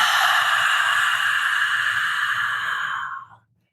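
A long, steady exhale during a guided meditation breathing exercise, breathy and close, holding even for about three seconds before tapering off into silence.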